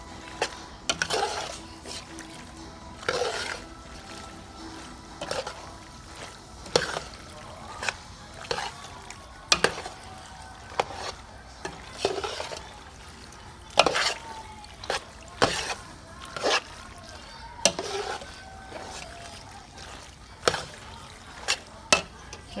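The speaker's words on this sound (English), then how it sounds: "I'm going to use a metal spoon to scrape the bottom to get everything up on top" A metal spoon scrapes and knocks against the bottom of a spaghetti pot, making a series of sharp, intermittent clanks and scrapes, close by and moderately quiet.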